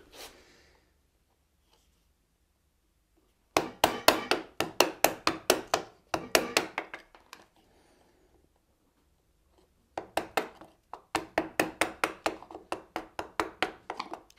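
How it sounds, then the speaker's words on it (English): Hand chisel strikes paring waste from a wood joint, worked against a stop, in two bursts of rapid, evenly spaced sharp taps, close and fairly loud, separated by a quiet pause. "we need to use a chisel to remove the waste"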